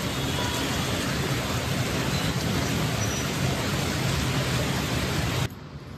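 Heavy evening rain pours down in a dense, constant roar that stays loud and even, then drops suddenly to a faint background hush near the end.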